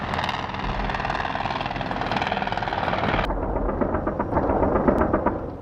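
A close, loud MH-6 Little Bird, a small military troop-transport helicopter, with a steady rapid rotor chop and a turbine whine; the tone shifts abruptly about halfway through.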